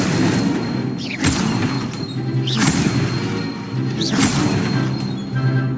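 Incendio fire spells cast in Hogwarts Legacy, three sharp whooshing bursts spaced evenly over a steady background hum, each a quick crackling flare.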